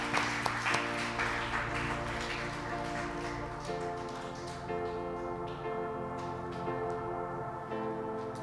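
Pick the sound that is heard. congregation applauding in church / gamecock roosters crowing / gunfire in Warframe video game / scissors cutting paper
congregation applauding in church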